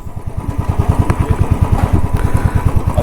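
A motorcycle engine rumbles close by with a steady, throbbing idle pulse as the bike arrives to park, loud and continuous with no talk over it.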